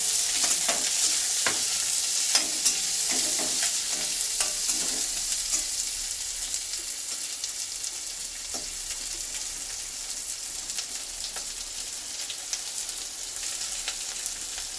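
Garlic and onion fry in oil with mustard seeds, nigella seeds and fried dried chilli, a bright continuous sizzle with frequent scraping stirs early on that thin out, close and steady with no voices.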